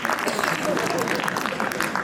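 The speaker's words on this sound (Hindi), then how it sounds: "ये तालियां बजाने वाली बात थी" An audience at a Hindi ghazal and poetry gathering bursts into brief, lively applause, a dense patter of clapping mixed with voices in the room.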